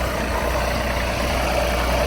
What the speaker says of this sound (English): That's a pretty easy tractor to drive